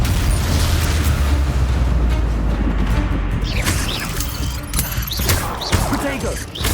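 Bombardo blast spell explosions in the Hogwarts Legacy video game, a loud sustained rumbling boom that fades into crackling, scattered debris-like bursts and pops toward the end.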